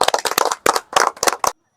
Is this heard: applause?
yes